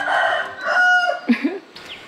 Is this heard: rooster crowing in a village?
yes